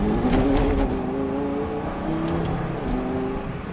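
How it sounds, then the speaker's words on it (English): A Lamborghini Gallardo engine revs steadily, close by, with a rough, whirring strain as the tires spin in snow on barely any throttle, continuous and fairly loud. "Barely any throttle at all, and the tires spin."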